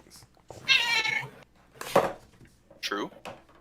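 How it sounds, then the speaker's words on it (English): A pet cat meowing nearby, three separate drawn-out meows spaced about a second apart, clear and fairly loud against a quiet room. "The cat meowed."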